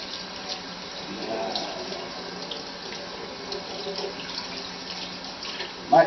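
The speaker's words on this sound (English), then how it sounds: "I'm gonna rinse it off in the sink." A brisket is rinsed under a kitchen sink faucet, with water running steadily and close throughout and splashing gently against the meat and basin.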